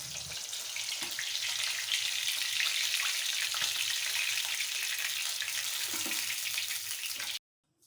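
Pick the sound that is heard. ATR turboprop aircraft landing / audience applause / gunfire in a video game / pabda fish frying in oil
pabda fish frying in oil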